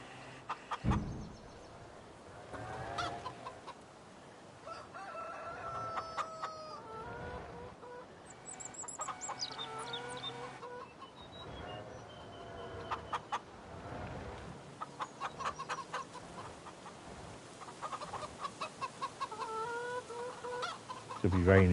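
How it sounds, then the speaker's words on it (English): Chickens cluck and squawk repeatedly in the Farm Sim video game, fairly close and persistent, with game sounds and a passing engine in the background. "Go away, chicken."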